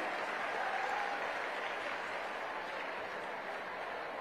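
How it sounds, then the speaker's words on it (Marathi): Sustained applause from an audience of women in Sangli welcoming a political guest, steady and dense for the whole stretch, moderately loud with a faint crowd murmur beneath. "जरा टाळ्या वाजवा सगळ्यांनी त्यांच्यासाठी."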